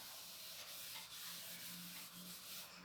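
Something rubs out writing on a board with a continuous, scratchy back-and-forth scrubbing, close and fairly quiet, with no voice.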